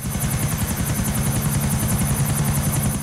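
Helicopter in the video game GTA, a steady loud rotor chop with pulsing low thump and a constant high whine throughout, with no voices.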